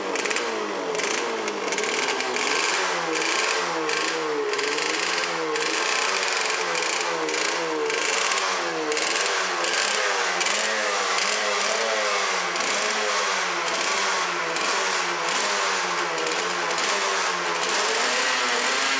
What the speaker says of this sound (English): I got the choke on still, so these bikes do need to warm up a little bit before you cut that choke off.